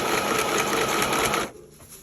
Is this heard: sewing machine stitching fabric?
yes